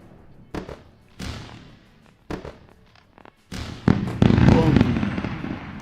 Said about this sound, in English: You got the fireworks ready.